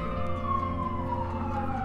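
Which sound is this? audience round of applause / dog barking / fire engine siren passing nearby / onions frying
fire engine siren passing nearby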